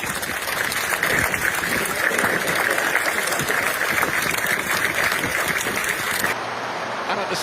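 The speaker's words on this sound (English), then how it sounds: "So I please now ask you for a minute's applause, a moment to celebrate the life of Rob Burrow." A stadium crowd at a Leeds Rhinos rugby league match applauds in tribute to Rob Burrow, a dense, even roar of clapping from many hands that holds steady for several seconds before cutting off abruptly.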